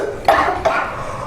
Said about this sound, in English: You're still coughing. It's gross.